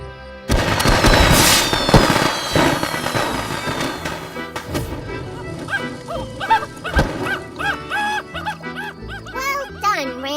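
Fireworks crackle and bang in a dense burst at the start, then thin out as a dog barks and high, cartoonish voices chatter over the tail end.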